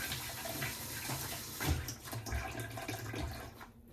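Water runs steadily from a tap, a continuous rushing splash with a few clunks and shifts in the flow, close by, with no voices.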